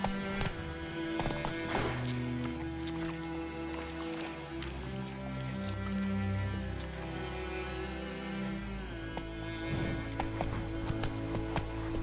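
In the PC game The Witcher 3: Wild Hunt, a horse's hooves clip-clop in a steady, even rhythm over soft background music and ambience.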